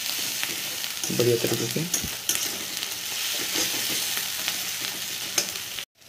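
Masala for chicken curry sizzles and crackles in a hot pan as it is fried and stirred, with a few scraping stirs early and a steady frying hiss throughout; a voice speaks briefly.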